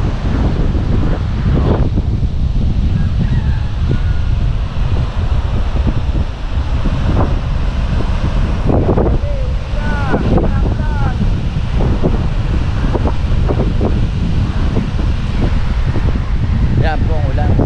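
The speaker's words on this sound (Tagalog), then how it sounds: "Grabe ang hangin." Strong wind roars and buffets the microphone over a constant wash of surf, with a few distant voices calling out through the gusts.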